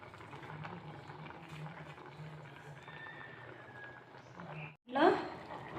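Dal with spinach, tomato, turmeric and chili powder bubbling in a pot, a steady low simmering texture throughout with a brief louder stir or splash near the end.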